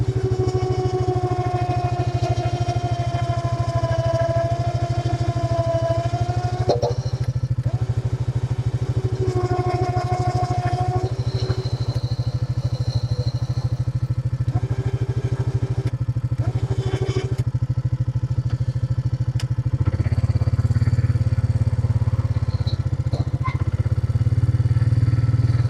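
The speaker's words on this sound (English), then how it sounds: "But I think this will winch it off no problem." A winch drags equipment off a trailer at an equipment recovery, a steady mechanical drone with a running engine beneath it. The whine shifts pitch in stretches, and the motor grows louder near the end.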